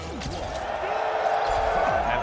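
Fighting-game tournament audience roars for player Zen, a dense steady wall of cheering voices with scattered thumps and claps throughout.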